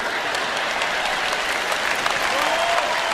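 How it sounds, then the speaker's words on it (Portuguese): A church congregation applauds at a sermon, a thick, even wash of clapping that holds steady for several seconds without pause. "Vocês não estão aplaudindo muito forte."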